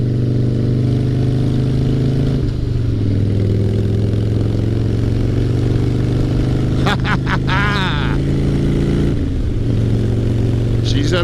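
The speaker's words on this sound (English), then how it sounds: "I'm out doing some road tests on the bike" A 2003 Harley-Davidson Fat Boy motorcycle on a road test, its engine rumbling loud and close in a low, steady drone with brief revs in the middle, wind noise running throughout.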